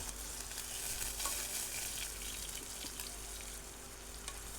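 Ground spice paste, ginger-garlic paste and smashed potato with a little water sauté on a low flame for a pulse curry, giving a faint, steady sizzle with soft stirring scrapes and no speech.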